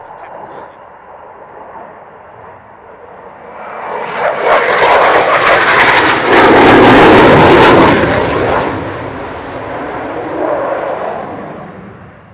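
A military jet makes a slow pass at the 2011 Fairford airshow with undercarriage down and air brake out. Its engine roar swells from a distant hum to a loud, broad peak overhead, then recedes into a fading rumble.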